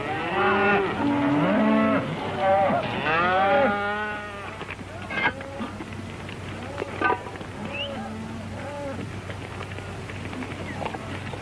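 Cattle moo repeatedly on a ranch, several long drawn-out calls close by in the first seconds followed by sparser, fainter lows and some clattering over a steady background hum.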